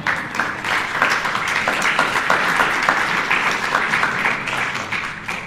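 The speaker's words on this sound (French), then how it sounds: "grâce à une initiative de Ludovic Lagesse, qui va se mettre debout lui aussi pour que vous l'applaudissiez." Audience applause at a book launch in Mauritius, steady dense clapping from a crowd that holds throughout without a break, with no talk above it.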